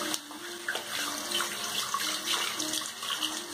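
Tap water running steadily into a sink or tub, splashing as a freshly shaved head is rinsed, a close, moderately loud wash with no speech.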